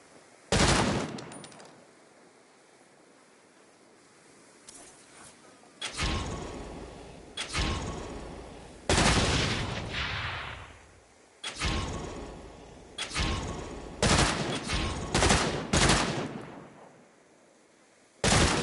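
A run of separate gunshots rings out while aiming, each a loud crack with a decaying tail and short pauses between. Roughly a dozen shots come in irregular groups, with a fast cluster near the end and no talking.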